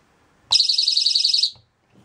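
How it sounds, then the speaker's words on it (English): A small personal panic alarm set off by pulling its pin, used as a camping tripwire alert: a sudden, piercing, rapidly pulsing electronic shriek lasting about a second, loud and close, then cutting off. "panic alarms."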